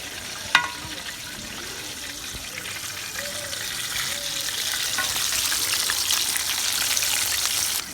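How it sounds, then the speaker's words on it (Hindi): Chicken pakora fries steadily in hot oil for a rainy-day snack, a continuous close sizzle that grows slightly busier over time, with a brief sharp clink near the start. "तकरीबन 5 से 6 मिनट हो गए हैं फ्राई होते हुए"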